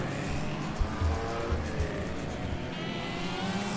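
Several small mini novelty race car engines buzz and drone steadily at a distance on the Hednesford track, with a few low thumps and a rising whine near the end during a rolling start.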